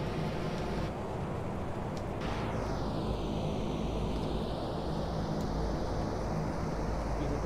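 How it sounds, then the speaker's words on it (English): Simulated airliner reverse thrust during a landing at Brisbane in Microsoft Flight Simulator X: a loud, steady broadband engine roar with a whine that sweeps down and then levels off. "Touch. Reverse thrust."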